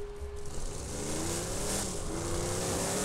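A vehicle in Borderlands 2 drives with a steady, mid-loud engine drone that rises slightly in pitch as it accelerates, with no talk over it.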